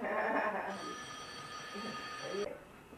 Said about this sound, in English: Okay, I gotta go answer the phone.